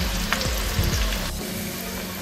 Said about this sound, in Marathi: लसूण आपण सगळा कच्चेपणा जाईपर्यंत, थोडासा लालसर रंगाचा होईपर्यंत, असं थोडासा खुळखुळीत होईपर्यंत तळणार आहोत